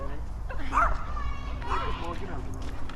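A small guard dog on a front step gives a couple of short yips and barks up close while people talk over it.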